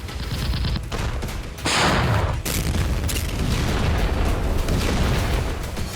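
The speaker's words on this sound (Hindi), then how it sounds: "फिलहाल यूक्रेनी फौज की आर्टिलरी आग उगल रही है।" Ukrainian artillery fires in a war zone, heavy booms and rolling blasts with sharp cracks and a sustained burst of fire, loud and broadband, no speech.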